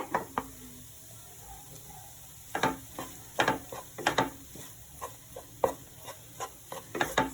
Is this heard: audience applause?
no